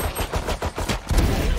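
Rapid gunshots in Valorant, a quick rhythmic string of close, punchy shots ending in a heavier burst.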